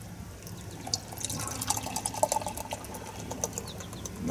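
Dogfish Head Slightly Mighty low-cal IPA beer is poured from a freshly opened can, making a steady liquid splashing and fizzing with small drips and crackles. It runs close and moderately loud throughout, with no talking.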